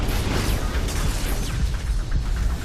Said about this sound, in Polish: Nastąpiła straszna eksplozja.